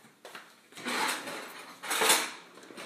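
A spoon stirring food in a bowl, two bursts of scraping and clinking against the dish separated by short pauses, close and fairly quiet with no talking.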